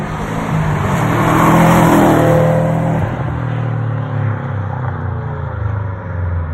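A Nissan 370Z fitted with a Duraflex AMS-style body kit accelerates hard on a pull, its engine note loud and rising, peaking, then fading as the car moves away.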